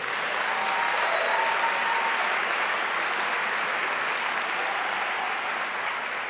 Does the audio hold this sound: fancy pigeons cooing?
no